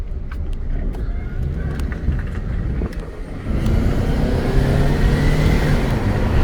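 A 2002 Toyota Camry XLE with a 2.4-liter four-cylinder engine accelerates, a steady moderate engine drone and road noise that swells midway, heard from inside the cabin with no talking.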